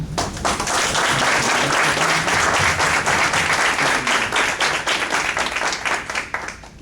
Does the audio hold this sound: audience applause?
yes